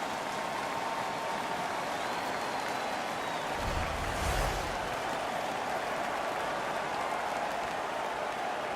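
An arena crowd roars after a fight in an NHL 15 hockey game, a dense, loud wash of cheering with a brief swell of deeper noise midway, no talk heard.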